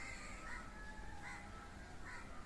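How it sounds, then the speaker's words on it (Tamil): A crow caws several times, faint and somewhat distant, harsh calls spaced about a second apart over a steady outdoor background. "காக்கா"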